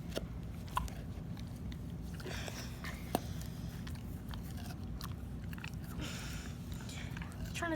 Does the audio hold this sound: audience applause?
no